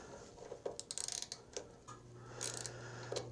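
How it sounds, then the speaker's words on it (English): A small thumb ratchet, or palm ratchet, turns a screw on a Murray snow blower, giving short bursts of quiet clicking pawl ticks close by, under a faint background hum. "thumb ratchet, palm ratchet, I think they used to call them."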